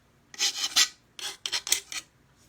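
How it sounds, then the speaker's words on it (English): Sandpaper rubbed into the crevices of a piece, several close, loud raspy strokes in short bursts separated by brief pauses. "it's just sandpaper, but it makes it so nice to be able to get down in those crevices"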